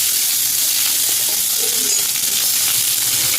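Onion frying in hot oil with cumin seeds makes a loud, close, steady crackling sizzle that runs unbroken throughout, with no one speaking.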